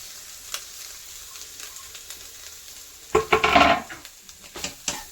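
Egg bhurji frying in a pan as coriander goes in, quiet at first and then a burst of sizzling with scraping stirs around the middle, followed by a few more clinks and stirs.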